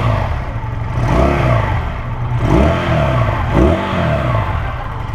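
A Daytona 250 cafe racer motorcycle engine revved inside a showroom, loud and close, with several rising and falling throttle blips over a steady idle.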